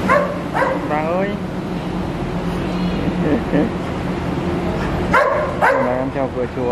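A golden-coated Golden Retriever at a temple gate gives several sharp barks and high, wavering whimpers in short bursts, fairly close, while people talk over an outdoor background hum.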